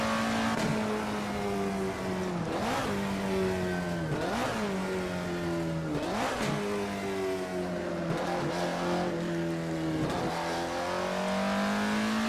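Screaming Alfa Romeo 33 Stradale engine in the Assetto Corsa racing sim near 9,000 RPM, a loud close-up wail broken by five or six rhythmic upshifts, each with a brief dip and renewed climb.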